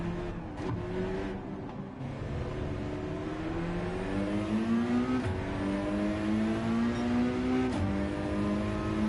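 A car engine in Gran Turismo 7 drones and revs steadily, pitch climbing through gear changes with brief shifts, loud and continuous with no voices.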